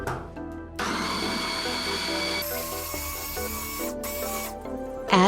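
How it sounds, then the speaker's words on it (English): Blender chopping tomatoes for Turkish lahmacun, a loud steady motor whine that shifts pitch as the blades work through the tomatoes, running continuously with brief changes in load. "Chop the tomatoes with blender."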